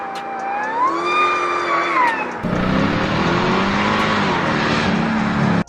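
A Mercedes E55 AMG with a 5.4-liter supercharged V8 runs close by, its engine note rising and falling in pitch, then shifting to a rougher, louder roar that holds steady before cutting off.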